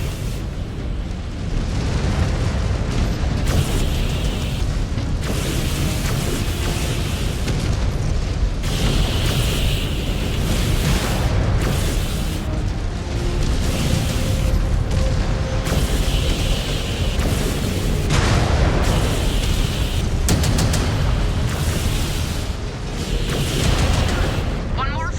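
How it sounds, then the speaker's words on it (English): Missile explosions and booming impacts from the MechWarrior Clans game, dense and loud, arriving in repeated bursts over a constant mechanical rumble, with a voice speaking intermittently over them. "Incoming missile."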